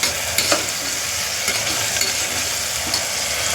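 Tomatoes stir-frying in a pan, a continuous close sizzle broken by scraping stirs and light clicks of the spoon, fairly loud and with no talking.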